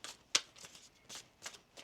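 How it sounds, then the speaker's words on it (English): Tarot cards being shuffled by hand in a quiet room, a few soft riffling bursts with one sharp snap of cards near the start and lighter flutters after. "One more shuffle"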